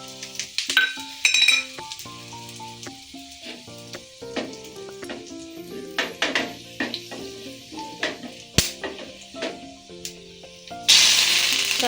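Tempering of dried red chillies and curry leaves sizzles in hot oil for a raw mango pickle, with a steady crackle, scattered clinks of a spoon and pan, and a louder sizzling surge at the end.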